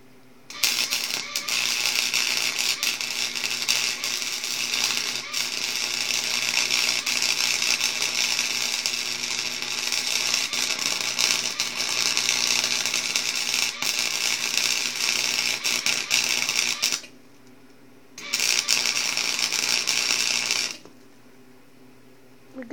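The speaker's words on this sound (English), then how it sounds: "Got one more spot to weld." Spider gears are arc welded, a loud continuous crackling sizzle that holds for about seventeen seconds, breaks off briefly, then resumes for a few more seconds before stopping.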